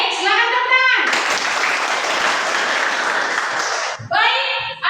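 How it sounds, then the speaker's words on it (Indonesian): A class of children clapping their hands together in a classroom, a burst of busy applause lasting about three seconds, framed by a teacher speaking before and after. "Baik, silakan tepuk tangan."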